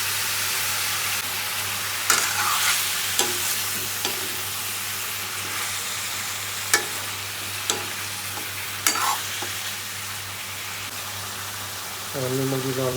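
Onions frying with green bamboo shoot and pork in a pan, an even hissing sizzle throughout with occasional scraping stir strokes, and a brief burst of rough clatter near the end.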